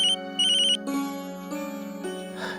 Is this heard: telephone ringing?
yes